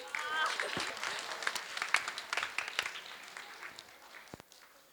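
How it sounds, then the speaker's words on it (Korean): A burst of audience applause at a lecture, dense clapping that swells then gradually thins and fades over a few seconds, moderately distant. "박수."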